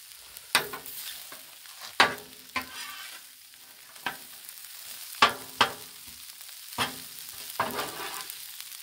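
Spatula scraping and stirring red beans and rice on a Blackstone flat-top griddle, a series of sharp metallic scrapes spaced irregularly over a soft continuous sizzle, close and fairly quiet.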